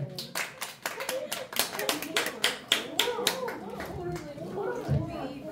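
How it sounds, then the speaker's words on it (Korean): Children clapping their hands during an author's talk at an elementary school, a burst of uneven, sharp claps from a roomful of kids with some chatter and voices mixed in. "박수 한번 쳐주세요."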